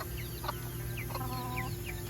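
Olive Egger chickens cluck and chirp in short calls over a steady background hum, close by and moderately loud.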